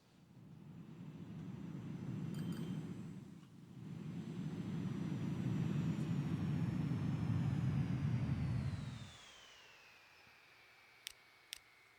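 Airplanes fly in the transport sim Transport Fever 2, a loud, steady engine drone with no voices that holds for about nine seconds, briefly dips once, then cuts off, leaving faint ambience and a couple of sharp ticks.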